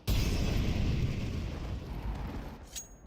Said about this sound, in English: Flashbang blooming.